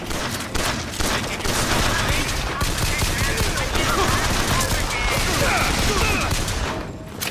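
Rapid pistol gunfire in BioShock Infinite, dense overlapping shots sounding steadily for several seconds amid busy combat noise.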